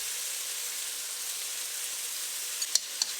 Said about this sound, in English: Then, continue to stir-fry the tomato and onion.